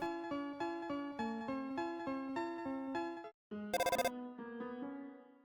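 A cell phone rings in Undertale as a looping chiptune melody of evenly repeated beeping notes, followed by a short pause, a buzzy burst and a sustained tone, clear and alone with no voices.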